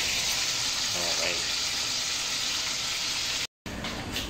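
Pork steak fries in a pan with a loud, steady hiss and crackle close by, broken by a brief silence near the end.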